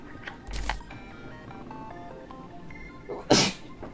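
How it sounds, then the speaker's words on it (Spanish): A single loud sneeze bursts out close by near the end, over quiet background rustle with a smaller breathy burst earlier. "un estornudo épico"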